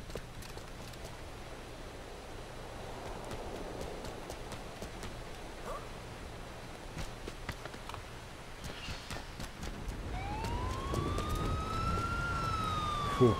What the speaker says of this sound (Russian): Фу, это скорая.